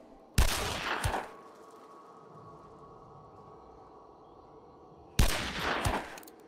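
Two loud bursts of rapid gunfire in a Hunt: Showdown shooting range, each lasting under a second, separated by a long quiet stretch of low room hum.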